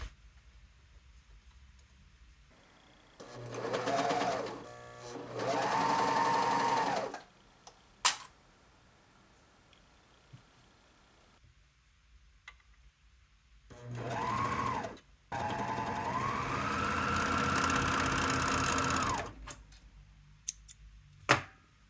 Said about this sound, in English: you can serge both shoulder seams one after the other on the same line of ribbon